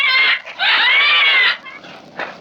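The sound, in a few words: man imitating a bird call, rooster-like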